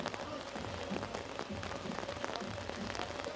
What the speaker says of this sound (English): We're having a rain party.